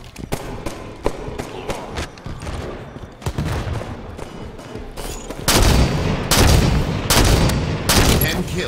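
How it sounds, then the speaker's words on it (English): Sniper rifle shots and other gunfire in Halo 5: Guardians multiplayer, a rapid series of sharp, loud bangs with booming tails, growing denser and heavier in the second half, with faint talk underneath. "Those sniper shots were not good"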